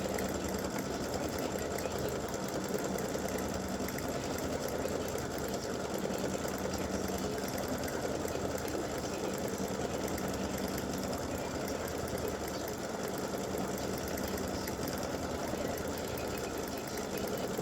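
Sewing machine stitching a light half-circle appliqué design on a champagne glasses side-seam piece, a steady continuous whir of rapid needle strokes running unbroken throughout with no talking.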